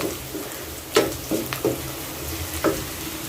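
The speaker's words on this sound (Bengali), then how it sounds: "এটা ভাজা হোক পেঁয়াজ আর এটা ভাজা হলে তারপর হচ্ছে পাঁচফোড়নটা দিয়ে দেব" Onions fry in a pan with a soft, even sizzle, broken by several sharp clicks and scrapes of a spoon stirring against the metal.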